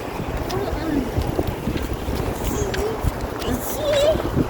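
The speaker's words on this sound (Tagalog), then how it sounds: "It's so windy." Strong outdoor wind buffets the microphone with a steady low roar and rumble, while people talk over it.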